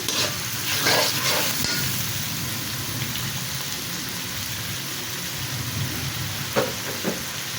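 Garlic sizzling in hot oil for a chicken and potato curry, a steady close frying hiss with a few brief stirring scrapes and crackles, no talking.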